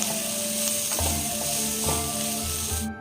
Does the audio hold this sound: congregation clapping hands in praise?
no